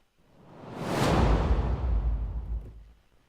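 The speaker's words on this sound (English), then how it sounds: "Yes, here are the whooshes." Whoosh sound effect from the ASCENT sample library, a single broad swelling swish that builds over about a second, sustains with a low rumbling body, then fades out, heard alone.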